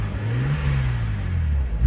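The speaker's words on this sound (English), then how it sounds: "So if you rev up the car," A BMW E82 125i engine revs steadily in a parked car, its low note climbing and holding for a couple of seconds, close and fairly loud with no one speaking.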